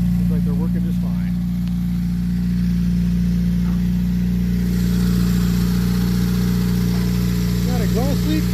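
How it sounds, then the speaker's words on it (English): A car engine with an exhaust leak idles with a rough, puttering exhaust note, loud and close, while voices talk over it. "Got exhaust leak?"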